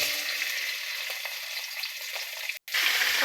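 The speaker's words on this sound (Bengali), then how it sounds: "এবার মাথাগুলো ভালো করে তেলে ভেজে নেব।" Fish heads fry in hot oil in a wok, giving a steady, bright hiss and crackle that carries on unbroken apart from one brief dropout near the end.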